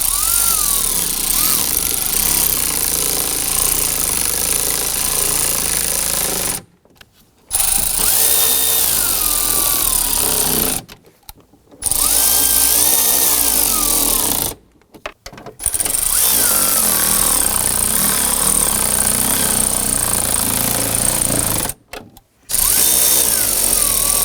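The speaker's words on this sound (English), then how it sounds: "let's continue this process, getting the rest of the screws in" Power tool driving screws into a blower motor module on a 2001-2009 Volvo S60, loud buzzing bursts of several seconds each, broken by four short pauses, close by.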